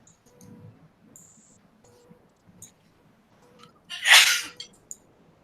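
A single sharp sneeze bursts out near the mic during a live tabletop game session, loud and brief against a quiet room with faint clicks around it.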